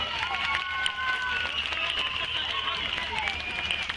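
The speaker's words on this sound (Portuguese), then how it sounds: "E uma salva de palmas para a comissão" A festival crowd claps and cheers for the organising committee, dense continuous applause with scattered whoops filling the space while a voice speaks over it.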